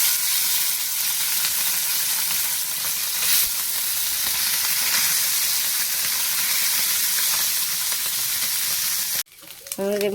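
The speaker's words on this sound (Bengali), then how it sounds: "আমাদের মৌটি চুনো ভাজা হয়ে গেছে" Small mourala fish frying in hot oil, a steady close sizzle and crackle with bright hiss throughout, then a sudden drop near the end as the sizzling quiets.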